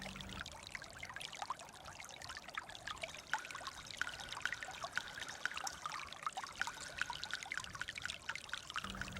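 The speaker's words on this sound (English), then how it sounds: "little pools that slowly flow down the gully" Water trickles and splashes steadily in a small stream in a montane shola gully at Eravikulam, a continuous bright babble with scattered drips, no voices.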